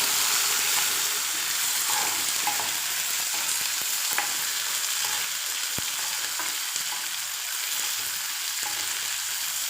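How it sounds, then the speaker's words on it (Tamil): Spices and sliced large onion fry in hot oil for a Chettinad-style fish curry, giving a steady, dense sizzle with faint stirring clicks, close and continuous, with no voices. "இது ஒரு வாட்டி ஃப்ரை பண்ணிவிட்டு நான் பெரிய வெங்காயம் ஒன்று கட் பண்ணி சேர்த்துக்கிறேன்"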